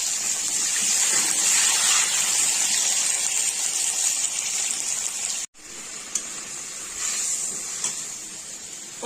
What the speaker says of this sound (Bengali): এবারে যে জল দিয়ে দিচ্ছি, এই যে জল দিয়ে দিলাম।